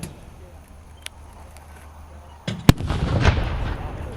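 A 2-pounder anti-tank gun fires once at an outdoor artillery display and reenactment, a sharp loud blast that follows a quiet wait, then rolls into a lingering rumbling echo.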